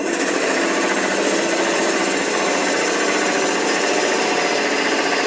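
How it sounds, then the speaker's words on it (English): A wood lathe cuts the tenon off an offset turned bowl, giving a continuous loud, even buzzing whir with the tool pressed against the spinning piece, and no one speaks. "Now remove the tenon."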